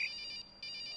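Telephone ringing in the video game The Witness, a quiet electronic trill in short rapid pulses that breaks off briefly mid-ring and resumes, heard alone.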